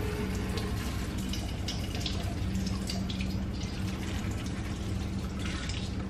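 Michelob Ultra lime beer poured steadily into a pot outdoors, a continuous liquid splashing and gurgling at close range that runs the whole stretch without a break or any talk.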